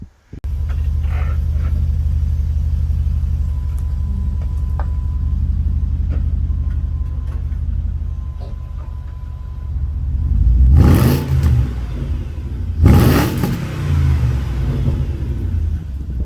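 A deep, steady BMW modified exhaust rumble idles throughout in the rain, then swells into two louder revving surges near the end.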